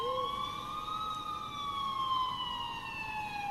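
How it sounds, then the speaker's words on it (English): A distant police siren wails steadily, its pitch slowly rising and falling over a low background rumble, with no voices present. "until I finally heard sirens in the distance."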